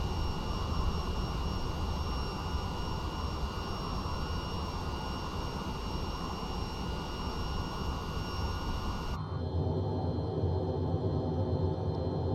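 An airplane in the video game Train Sim World 5 roars with a steady jet engine drone, then cuts abruptly to a quieter, muffled low rumble for the last few seconds.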